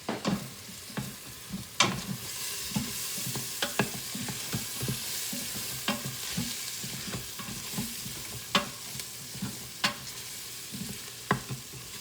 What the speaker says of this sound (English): And then keep stirring every once in a while.